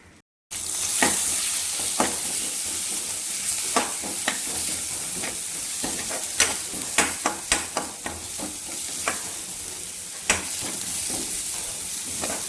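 Prawns and ridge gourd sizzle and fry in hot oil in a Kerala-style pan, a steady loud hiss broken by repeated sharp clicks and scrapes of stirring throughout, with no voices.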